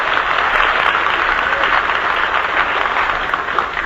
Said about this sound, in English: Let's send them a cheer from the Hollywood homepage.